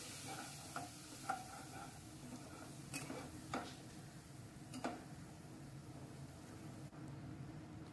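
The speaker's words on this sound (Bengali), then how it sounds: "তো সামান্য একটু জল দিয়ে আমি মশলাটাকে কষিয়ে নিব প্রথমেই।" Spices are stir-fried on low heat in a pan with a little water, giving a faint, steady sizzle with occasional light scrapes and clinks of the spoon, quiet and close.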